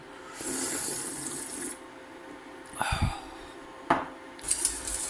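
A whisk works a thickening mixture in a pot for a Mars-style magic cake, giving steady metallic scraping and swishing strokes that continue for stretches and then break into a few sharper clinks against the pot.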